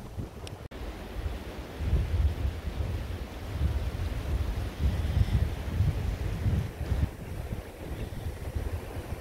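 Shallow river water in Kananaskis Country, Alberta, rushing steadily beside a village riverside area while gusty wind buffets the microphone, with a low, uneven roar and no voices.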